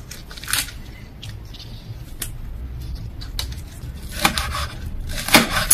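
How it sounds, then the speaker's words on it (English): A knife chops green onions on a kitchen board in a few sharp, irregular knocks, close and fairly loud, with quiet room sound between strokes. "Let me first start by chopping my green onions."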